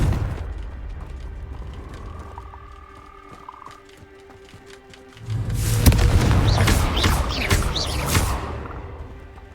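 In Hogwarts Legacy, a Confringo spell goes off after a quiet, mechanical stretch. It bursts into a loud, close boom halfway through, followed by seconds of crackling, rumbling debris, with no voices.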